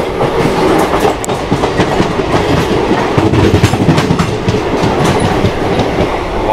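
A fast train running into the platform at Vaniyambadi railway station, a loud, close, continuous rumble with wheel clatter rolling steadily throughout.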